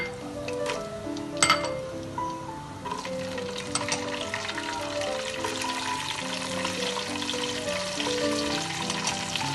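Fennel seeds and dried nuts crackle and sizzle in hot oil in a pan while jaggery rice is cooked, a steady bright frying hiss with scattered pops and a clink of the pan early on.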